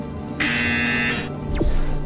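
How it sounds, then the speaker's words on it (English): Buzzer in the Portal Stories VR video game, a single loud, flat electronic buzz lasting under a second over a low hum, followed by a brief descending whoosh. "When you hear the buzzer, press the red button on your Aperture Science instant teleportation device, aim, and pull the trigger to teleport."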